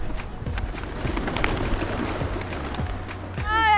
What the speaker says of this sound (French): Ah, les pigeons, j'ai peur des pigeons.